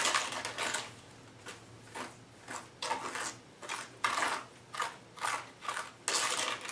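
Reserve grout being mixed into a batch of tile grout, heard as close, irregular scraping and gritty crunching strokes in bursts, with no talking.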